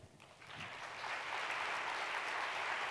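Audience applause after a motivational speaker's talk, rising from a quiet start into a steady, moderately faint wash of many hands clapping.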